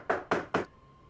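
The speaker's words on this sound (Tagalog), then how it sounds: "Hoy, Lala, may kumakatok." Three sharp knocks on a door come in quick, even succession, close and distinct, followed by quiet.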